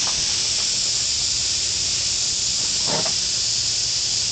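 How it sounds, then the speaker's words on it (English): An airbrush sprays paint onto a customized t-shirt with a steady, close hiss that runs unbroken, with a slight surge near the end. "It's a customized airbrush t-shirt"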